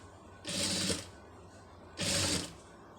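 Two bursts of a sewing machine running, about half a second each with a pause between, while a puff sleeve is stitched; a steady low motor hum sits under the rapid needle chatter.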